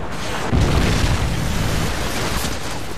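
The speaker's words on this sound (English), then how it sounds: "Friendly Predator missile inbound." A Predator missile strike in Call of Duty MW3 sets off a heavy, booming explosion about half a second in, followed by a low, sustained rumble that lasts until the end.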